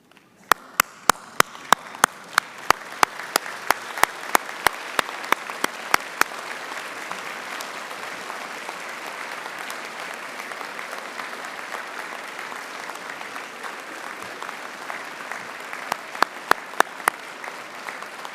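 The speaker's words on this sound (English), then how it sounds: "give them the loudest applause you possibly can this morning" Graduation ceremony audience at City of Glasgow College giving sustained, loud applause, a dense roar of many hands with crisp, evenly spaced sharp claps close by at the start and again near the end.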